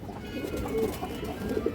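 A large purple male pigeon coos softly in low, murmuring calls against a faint background.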